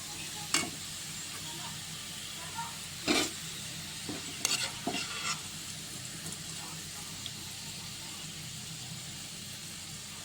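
Onions deep frying in oil for a Telangana-style mutton kheema biryani, a steady low sizzle with a few sharp clatters of a utensil against the pan, fairly quiet and close.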